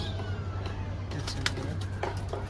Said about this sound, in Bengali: এটা হচ্ছে আমার সাদা ঘুঘু।